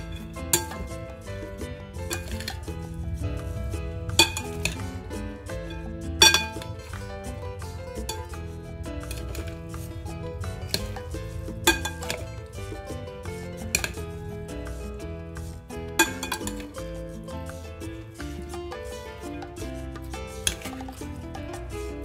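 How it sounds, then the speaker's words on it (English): Utensils clink and scrape against a bowl while kachumbari, a Kenyan salad with avocado, is gently tossed, with scattered light taps repeating through a steady musical background. "And just mix your salad up."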